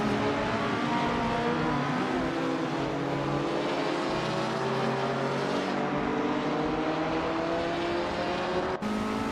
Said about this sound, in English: Xuma Girl is driving a 1964 Austin Mini Cooper S, a small and nimble car.